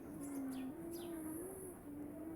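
Soft bird chirps and short tweets scattered over a steady low hum, fairly faint and distant.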